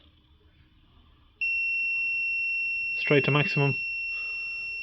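A steady high-pitched electronic beep from a Kingbolen BF200 brake fluid tester warning of contaminated fluid starts and holds continuously, with someone briefly speaking over it near the end.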